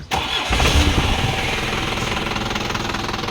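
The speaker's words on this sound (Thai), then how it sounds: "มาเบิ่งในส่วนของเครื่องสตาร์ทเลยดีกว่า" A motorcycle or small vehicle engine is cranked by its electric starter, firing almost at once into a steady, loud, close rhythmic idle that runs on without any talking.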